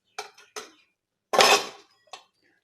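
Spoon scraping and clanking in a pot of Tamil Nadu–style sambar, three separate bursts of metallic stirring, the middle one longest and loudest, with quiet gaps between.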